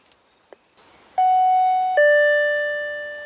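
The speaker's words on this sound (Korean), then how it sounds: "초인종을 눌러봤지만" A doorbell chimes at the closed gate of a shelter house with a tidy garden and pond, two clear electronic ding-dong tones ringing out and fading, with no voices.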